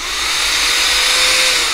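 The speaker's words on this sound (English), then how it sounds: "so this is rechargeable portable A blower to dust off everything, right?" Rechargeable portable blower dusting a laptop CPU fan on a Lenovo Legion Y530, a loud, close, steady high-pitched whooshing whine sustained throughout, alone without talk.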